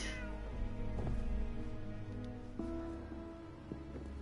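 A cat in the video game Fallout 76 Wastelanders gives a drawn-out, wavering meow, followed by a couple of shorter meows, close and clear over a soft background hiss.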